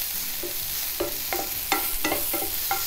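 Vegetables for a cheesy sweet-corn toast topping sauté in a hot pan, with a spatula scraping and stirring in quick irregular strokes over a soft, continuous sizzle, close by and without talk.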